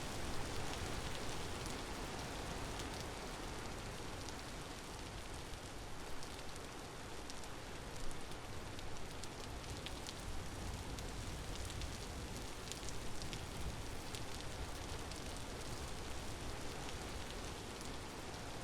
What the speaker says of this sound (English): This may be a short video if it's just me running through the rain.